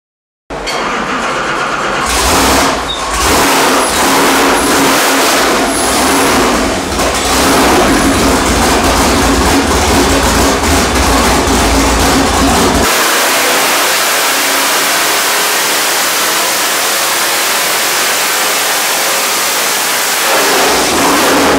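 A naturally aspirated 690 hp LS V8 with a new X-Ram manifold, running on a dyno with a hydraulic cam, roars at high revs for several seconds, then drops to a harsher, lower-pitched run with no speech.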